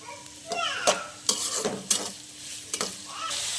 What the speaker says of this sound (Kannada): ಈರುಳ್ಳಿ ಗೋಲ್ಡನ್ ಫ್ರೈ ಆಗೋವರೆಗೂ ಸ್ವಲ್ಪ ಚೆನ್ನಾಗಿ ಅದನ್ನು ಫ್ರೈ ಮಾಡ್ಕೊಳ್ಳಿ.